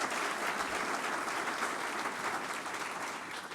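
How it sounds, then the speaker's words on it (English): Sustained applause from a seated audience at a college of business naming ceremony, a dense, even wash of many hands clapping that fades slightly toward the end. "Another round of applause for this young man"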